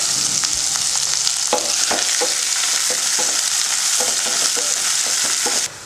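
Sliced onion and curry leaves frying in hot oil for a Tamil hotel-style meal maker (soya chunk) kurma, a steady loud sizzle throughout with repeated scraping stirs of a spoon against the pan, then stopping abruptly near the end.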